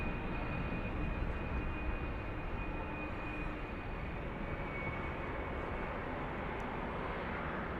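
An American Airlines airliner departing Dallas Fort Worth for New Zealand gives a steady, distant jet roar with a faint high whine, unbroken and without talk.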